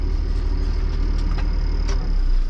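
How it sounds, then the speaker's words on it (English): A tractor pulling a slurry tanker idles nearby, its engine a steady, moderately loud mid-pitched rumble throughout, with a few faint higher clinks on top. "The other tanker and tractor is back"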